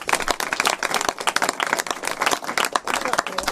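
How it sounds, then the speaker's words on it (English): A large room full of people claps for the Majority Leader and the Women's Caucus at a governor's early budget bill signing, a dense, steady roar of applause sustained for several seconds with crowd noise mixed in. "a huge round of applause for the Majority Leader and for the Women's Caucus"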